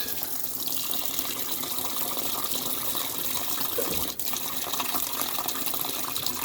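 Water gushes and churns steadily inside a Maytag commercial top-load washer running with its lid up, a continuous close splashing wash as the load is moved around, broken by one brief thump.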